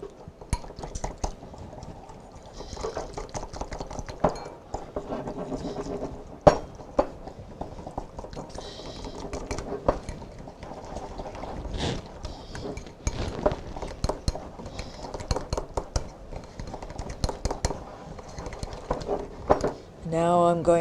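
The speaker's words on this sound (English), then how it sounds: "See if we can whisk it together." Rice vinegar dressing being whisked in a bowl, with a run of quick, uneven clinks and taps of a whisk against the dish over a steady hum of kitchen noise.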